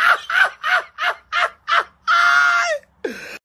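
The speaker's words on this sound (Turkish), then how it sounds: "Kim demiş kuşum ötmüyor diyor. Bak ötüyor kuşum." A bird calls in a rapid series of short, hoarse squawks, then lets out a longer drawn-out screech and one final call, close and loud.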